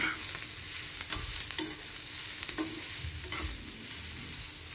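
Ginger, green chili and tomato sautéing in a pan, a continuous close sizzle with intermittent scraping stirs of a spatula and no voices.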